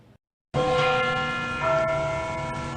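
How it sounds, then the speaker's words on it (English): Church bells peal loudly and continuously after a brief quiet start, their overlapping tones ringing out and sustaining with no voices present. "Bells ring to call the faithful."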